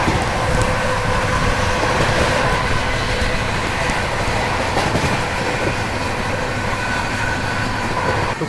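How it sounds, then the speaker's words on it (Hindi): Loud, continuous rumble and rhythmic clickety-clack heard from aboard the Bhubaneswar Duronto Express as it runs at speed past Khurja Junction overtaking the Darbhanga Clone train, steady wheel-on-rail roar with wind noise throughout. "तो खुर्जा जंक्शन से निकलते ही यहाँ पे दरभंगा क्लोन को ओवरटेक कर रहे हैं हम।"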